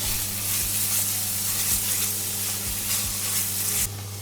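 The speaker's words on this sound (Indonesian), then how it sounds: "kita akan tumis bumbunya sampai matang" Spice paste with kaffir lime leaves and bay leaves sautéing in a pan for tuna balado, a steady dense sizzle with occasional scraping stirs, close and loud throughout.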